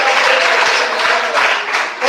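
A congregation at a church sermon breaks into dense, continuous applause, a loud wash of many hands clapping at once that fills the short moment.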